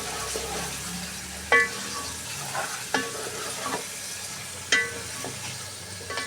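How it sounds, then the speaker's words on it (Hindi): Chicken for jakhni pulao sizzles in a pot, with a steady fry hiss under a few distinct metallic clanks and scrapes of a spoon stirring close by. "अच्छे तरीके से मिक्स करके अच्छे तरीके से भुन लेना"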